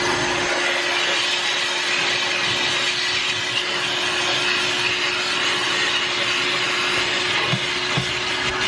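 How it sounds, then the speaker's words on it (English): A vacuum cleaner runs steadily throughout while cleaning out a pickup truck, a continuous loud whine with a constant tone and a few faint knocks near the end. "All I was doing was vacuuming my pickup."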